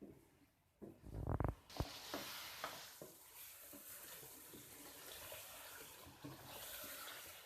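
Chicken and spices stirred together in a pan with a little water, opening with a short pour or splash, then soft sizzling and scattered scraping stirs, quiet and close.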